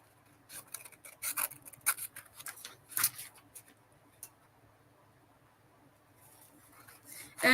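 Scissors snip through paper in a series of short, crisp rasping cuts close by, clustered in quick bursts with pauses between, then quiet before a final rustle.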